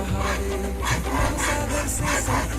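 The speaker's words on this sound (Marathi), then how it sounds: "गॅसची फ्लेम आपल्याला हाय करायची आहे आणि सतत त्याला फिरवत राहायचं आहे" A sugar mixture for Mathura peda is stirred in a pan over a high gas flame. Repeated scraping strokes play against a steady background hum.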